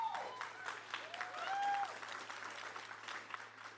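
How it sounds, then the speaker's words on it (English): An audience at a college entrepreneurship challenge claps and cheers for a few seconds, with a voice briefly calling out over the applause. "You brought a cheering section with you."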